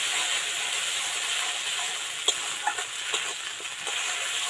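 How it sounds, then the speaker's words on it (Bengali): Masala for egg korma frying gently on low heat in a pan, a steady soft sizzle with a few faint stirring scrapes and clicks, no voices. "হালকা আঁচে মশলাটা পাক করে নিতে হবে"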